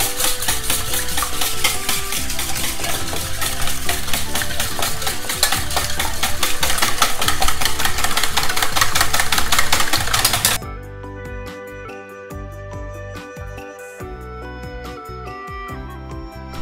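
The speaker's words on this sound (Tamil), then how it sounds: "இந்த 2 முட்டையும் வந்து நல்ல வடிவாக மிக்ஸ் பண்ணிக்கொள்ளுங்க." Two eggs are whisked briskly in a bowl for crepe batter, making a fast, dense, rhythmic clatter for about ten seconds before it stops and soft music carries on alone.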